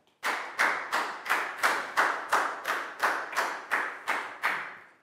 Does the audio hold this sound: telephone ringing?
no